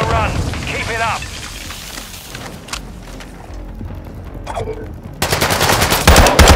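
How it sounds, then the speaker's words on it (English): Video game gunfire crackles in dense, overlapping bursts, with sharper shots and a heavier volley building near the end. "Taking fire!"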